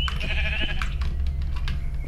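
A sheep in the Minecraft modpack CrafTopia gives one short, clear bleat up close, followed by soft clicking game sounds and no talk.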